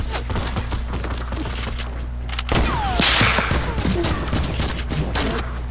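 Rapid SMG gunfire in the Fortnite video game crackles in dense bursts throughout, growing louder and fuller about halfway through amid other game noise.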